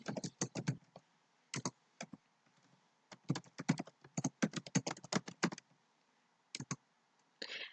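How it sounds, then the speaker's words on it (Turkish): Typing on a computer keyboard comes in bursts of quick, close key clicks separated by short pauses, crisp and fairly quiet with no talking. "Ben öylesine şu an yazıyorum."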